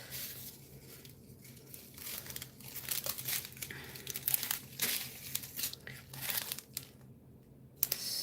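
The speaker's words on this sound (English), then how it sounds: "Let's try and make as little noise as possible. It's hard with crinkly stuff." Crinkly plastic packaging from a diamond painting kit rustles and crackles as it is handled up close, irregular bursts of crumpling with brief quiet gaps, fairly soft overall.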